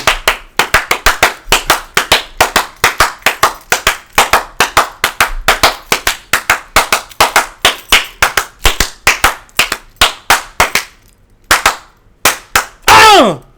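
Hand clapping, a long run of sharp, close claps in a quick, fairly steady rhythm, pausing briefly near the end before a last few claps and a burst of noise.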